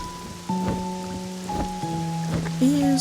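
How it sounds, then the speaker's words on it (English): Rain in the video game Pokopia, a soft steady patter with scattered drops under sustained electronic musical tones. "But rain, I'm not good with rain."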